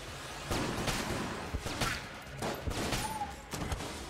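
Rapid gunfire in the video game Enter the Gungeon, a dense run of sharp repeated shots and whooshing projectiles with a few brief electronic tones, loud and continuous.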